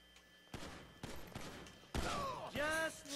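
Gunshots in GTA 5 ring out as several separate sharp bursts spaced about half a second apart, with a voice talking over the shooting.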